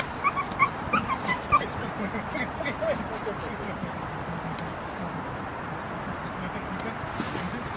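A Westie terrier at a park rescue mission yips and whimpers several times in short bursts early on, against a busy crowded outdoor background with people talking throughout.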